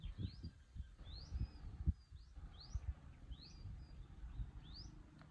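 Birds sing outdoors in northern Cebu, Philippines, with a short rising whistle call repeated about every second, faint and distant over low rumbling background noise.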